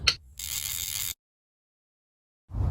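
A special universal shock absorber tool working on a project vehicle's shock, a short burst of rapid ratcheting clicks, then silence before a low mechanical rumble returns at the end.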